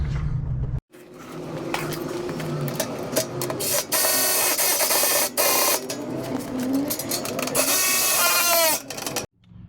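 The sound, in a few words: installing two bolts through bumper into skid plate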